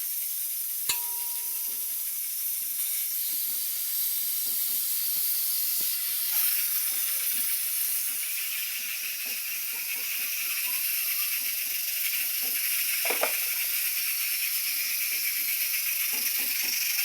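Spices sizzling in hot oil for a phodni tempering beside goat mutton, a steady close hiss lasting throughout with a few faint clinks and small pops, no voices.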